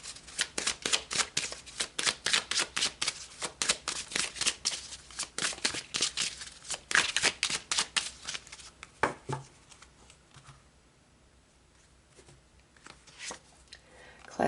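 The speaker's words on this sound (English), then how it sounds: "So let's pull some more cards." Tarot cards shuffled by hand in a spiritual reading, a rapid run of crisp riffling slaps for about ten seconds, close and loud, then tapering to a few soft taps over quiet room tone.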